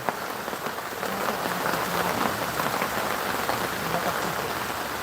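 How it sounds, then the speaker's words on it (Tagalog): Steady, dense rain pours down and patters on surfaces outdoors, a loud continuous hiss with fine drop crackle and no break. "Ayan, bumagsak na yung ulan."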